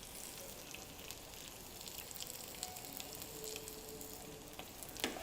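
Beetroot and other vegetables sauté with a pinch of salt in a pan for a no-onion, no-garlic biryani, a faint soft crackle with scattered light taps and a small clink near the end, no speech.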